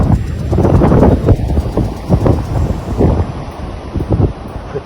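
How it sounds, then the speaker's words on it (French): A light breeze blows by the sea, heard as steady gusty rumbling buffeting the microphone, loud and close, with no talking. "Petit vent mais agréable"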